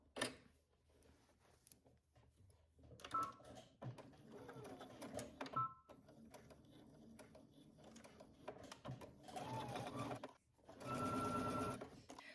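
A sewing machine stitches a seam in short runs of quiet whirring, with a longer, louder run near the end, heard fairly faintly in a room.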